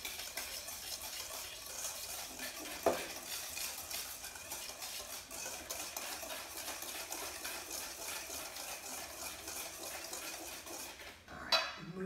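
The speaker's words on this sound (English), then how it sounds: "you kind of want to beat this for a minute or two, just because you want the yolks to really soften that sugar" Egg yolks and sugar are beaten together in a bowl for banana bread, making a steady, soft scraping and stirring whir with a couple of sharper knocks against the bowl and no speech.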